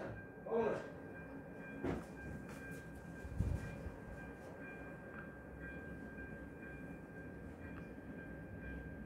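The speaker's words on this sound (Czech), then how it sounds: "Počkej, teďka jede vlak." A passing work train on a railway line makes a quiet continuous rumble, punctuated by a few brief clanks and thumps from the wagons in the first seconds.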